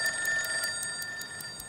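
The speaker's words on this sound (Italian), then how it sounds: "C'è un telefono fisso che suona." A landline telephone rings in a steady series of short, evenly spaced electronic trills, moderately quiet and alone with no voices.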